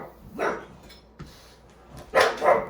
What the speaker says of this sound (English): barking at the mailman